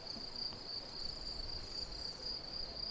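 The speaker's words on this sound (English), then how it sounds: "We have a beautiful soundtrack here of crickets in the tall grass." Crickets chirp steadily and without pause in tall grass on a farm in Portugal, a faint, continuous high trill that runs from start to end with no voices over it.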